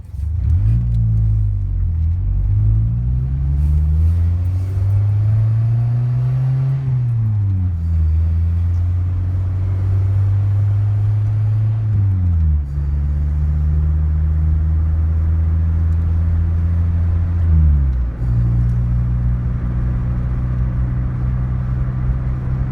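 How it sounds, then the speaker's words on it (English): A project car fitted with a fuel-saving Robo-throttle accelerates through several gears, its engine note rising and dropping at each shift, loud and steady throughout with no talk. "Now we'll show you a typical acceleration run with the Robo-throttle engaged."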